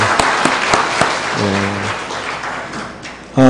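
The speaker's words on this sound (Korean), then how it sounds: "제대로 박수 한번 칩시다." A church congregation claps together during a Sunday worship service: a loud, sustained wash of applause that fades slightly and then swells again near the end, with a brief tonal swell sounding partway through.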